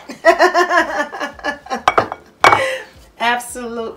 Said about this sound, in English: we're gonna take this bowl out of here